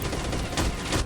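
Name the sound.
machine gun fire in the video game STALKER Clear Sky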